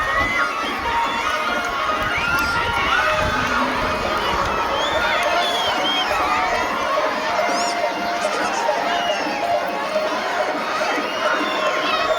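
Students cheer, shout and whistle at a school Krishna Janmashtami pot-breaking event in Hukkeri, a dense, loud, continuous crowd roar with shrill whistles and shouting voices throughout.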